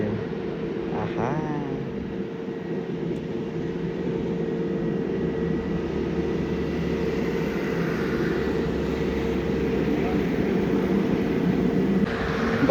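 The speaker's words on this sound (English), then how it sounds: "787-8 of Air India VTANL going to Dubai now" An Air India Boeing 787-8 Dreamliner, registration VT-ANL, takes off from Delhi Airport bound for Dubai. Its engines make a continuous broad roar that slowly swells over several seconds, heard from a spotting position nearby.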